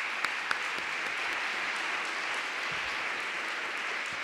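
An audience at a DC Mayor's Office event gives Mayor Bowser a sustained round of applause: an even, hissing roll of many hands, fairly distant, with a couple of sharper claps near the start.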